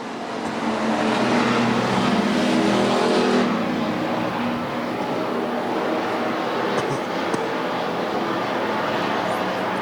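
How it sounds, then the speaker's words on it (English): Race cars in a Bomber class main event at USA Raceway roar past in a continuous, fairly distant engine drone, swelling early and then holding steady with no talk. "Tate now does clear the lap traffic of Rusty Smith in the 17"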